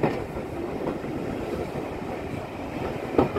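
Worth Valley Railway 4F 43924 steam locomotive train running, heard from on board as a steady rumbling roll with faint rhythmic wheel clatter and a brief louder knock near the end, with no voices.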